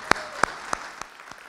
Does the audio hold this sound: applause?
yes